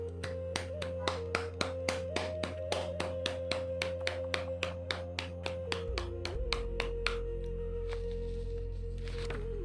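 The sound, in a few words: audience clapping after meditation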